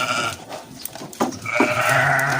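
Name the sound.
sheep bleating in pen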